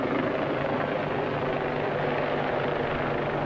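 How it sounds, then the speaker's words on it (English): A helicopter drones steadily overhead near Cleopatra's Needle on the London Embankment, its rotor thrum a continuous rumbling wash that stays loud and even throughout. "And there's the helicopter"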